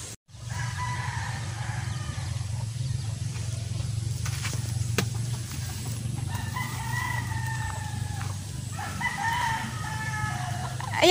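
A neighbor's chicken in a backyard garden of cassava plants clucks and calls repeatedly over a steady low background hum, its bursts of fowl vocalizing coming at a moderate distance and fairly clear.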